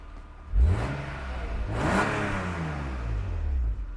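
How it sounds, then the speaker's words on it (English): A 1998 BMW E36 M3 engine running close by, revving up sharply once and then again, the pitch climbing and falling back to a steady idle between blips. "Great running engine."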